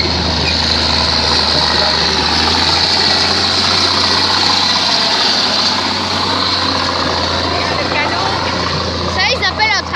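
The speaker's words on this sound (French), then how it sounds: "Il s'agit d'un tracteur d'artillerie lourd appelé high-speed tractor" The engine of a heavy tracked artillery tractor, the High Speed Tractor, idles steadily and loudly close by at a parade, a deep constant rumble throughout, with voices talking over it and a few brief rattles near the end.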